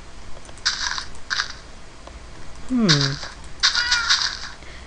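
A cat meows in the Minecraft video game, with a brief falling tone near the middle among soft game sound effects and higher chiming blips, set against a quiet background.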